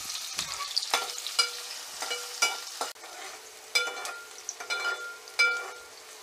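Onion shallow frying in a pan with chili, soft sizzling punctuated by repeated stirring clinks and scrapes of a spoon against the pan, fairly quiet and close.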